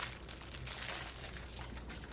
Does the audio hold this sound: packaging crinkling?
yes